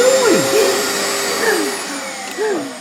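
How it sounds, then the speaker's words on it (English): A vacuum cleaner runs with a loud, steady motor whine and airy hiss, its pitch swooping up and down several times as it is moved around. "don't vacuum, please don't vacuum"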